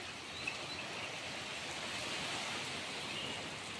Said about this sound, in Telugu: వర్షం అయితే మళ్ళీ చిన్నగానే స్టార్ట్ అయిపోయింది